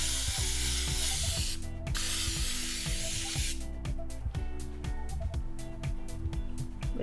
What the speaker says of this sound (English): We're just gonna make sure and totally flour the pan.